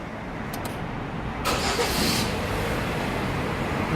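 A Hyundai Sonata YF with an LPG engine and a BHS turbo intake cranks and starts quickly. A brief burst of cranking gives way to a steady idle hum against a constant background of engine noise.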